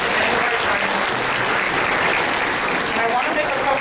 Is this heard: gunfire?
no